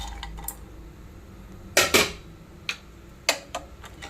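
Dry fruits drop into hot ghee in a heated pot while making rava laddu, making a few sharp, close clicks and clatters spread out with quiet gaps and no voices.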